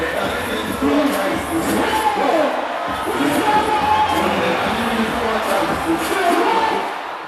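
A dense crowd of music lovers at the 2018 Ghana Meet Niger concert cheers and shouts steadily, with loud, continuous roaring and scattered voices that swell and fade over several seconds.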